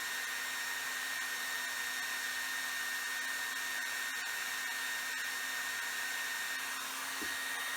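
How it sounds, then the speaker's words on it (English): A hair dryer blows steadily and continuously on high at close range, melting crayons, with a constant airy roar and no pauses. "Put it all the way on. And luckily this doesn't hurt your hair dryer in any way."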